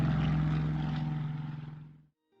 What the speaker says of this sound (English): waiting to hear this low bomber plane coming over the chimney pots